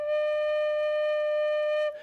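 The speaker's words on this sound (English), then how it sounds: "This is our lowest sounding note that we can play on this bamboo flute." A bamboo flute playing its lowest note with all six holes covered, one steady, pure, breathy tone held for about two seconds, close and clear, then cut off.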